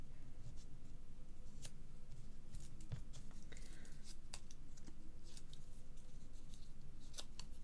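A circle punch snaps through tin foil again and again, giving sharp, faint clicks scattered over a steady hiss in a quiet room.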